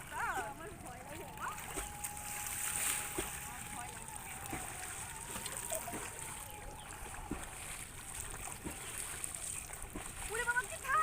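Someone swimming in the cold Ganges river during a Kali Puja bath, with faint water splashes and sloshing beneath near-continuous talking.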